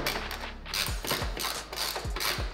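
Ratchet wrench tightens a subframe bolt on a KTM motorcycle, giving a close run of quick mechanical clicks in short bursts, loud and distinct, with no talk.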